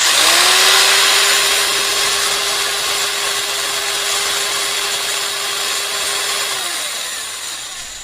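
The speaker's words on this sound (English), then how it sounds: "she'll definitely run the jigsaw." A jigsaw runs on a portable 600-watt power station, a steady buzzing whine with a sustained motor tone for several seconds that winds down near the end, loud and alone.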